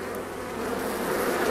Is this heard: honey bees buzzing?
yes